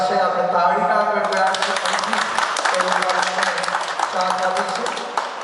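Audience clapping at the ribbon-cutting inauguration of a tractor dealer's new workshop in Chiloda, a steady wash of applause that swells after the first second and carries on under a voice on a loudspeaker.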